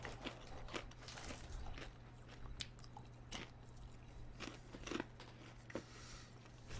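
Someone chews Crunch and Munch snack right after eating Doritos, producing close, wet crunching bites and munching in an irregular rhythm against a low steady hum, with no talking.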